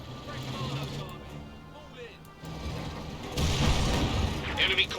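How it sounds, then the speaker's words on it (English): A stick grenade explodes inside a building in the Company of Heroes 2 battle game, a dull boom set among distant gunfire and battle noise, with a commentator talking over it. "it does look like he threw a stick grenade into that building"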